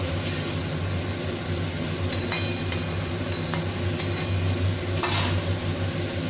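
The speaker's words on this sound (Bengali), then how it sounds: "এটা একটু সময় এটাকে নেড়ে চেড়ে সাঁতলে নেব" Green chillies and chilli powder stir-frying in a pan for a potato, flat bean and egg curry, a constant low sizzle with scattered sharp scrapes and clinks of a spatula against the metal.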